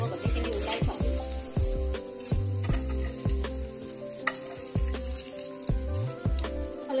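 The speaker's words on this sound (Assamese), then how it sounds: "ইয়াত ধুনীয়াকৈ মোৰ আলু কণী ফ্ৰাই কৰা হৈছে" Boiled eggs and potato pieces fry in oil with a steady sizzle, under a repeating music track with a clear rhythmic bass beat.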